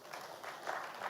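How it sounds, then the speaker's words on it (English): Faint, distant applause from a conference audience at a tech and finance event, a soft wash of clapping lasting about a second. "let's give me a round of applause"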